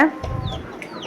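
Chickens cluck softly and continuously at close range, with a few higher calls rising over the low, steady murmur of the flock.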